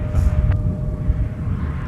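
A jet on very short final landing on runway 12 right at Minneapolis–Saint Paul airport, a steady low rumble with a faint whine, continuous and moderately close.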